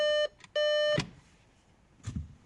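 Warning beeps from a Skoda Rapid with a faulty rear park assist, two clear tonal beeps, the second longer, followed by a click and a soft knock, heard close in a quiet cabin.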